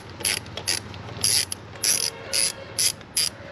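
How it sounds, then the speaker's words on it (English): Ratchet with an 8mm socket working Audi S3 intake clamps loose, about eight bursts of quick close clicking in an uneven rhythm, with no voices. "we're back with the 8mm to take these clamps off."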